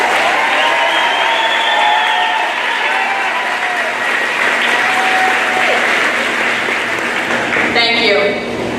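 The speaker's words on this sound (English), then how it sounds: "Please help me congratulate these students with another round of applause." Steady applause from a large audience at a school graduation fills the hall for about nine seconds, loud and sustained, with cheering voices and crowd chatter blended in.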